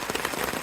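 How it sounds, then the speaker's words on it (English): Rain falls steadily on a Dyneema tarp while backpacking the Pinchot Trail, making a dense, even patter with scattered louder drops close overhead and no talk. "This rain may just sound worse because I'm under the Dyneema tarp."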